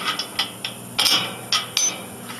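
Loose motor part on a Chinese mechanical bull, missing its retaining nut, rattling as it is lifted up and down: about six sharp metallic clunks and clicks, close and fairly loud, in an uneven rhythm with no talk.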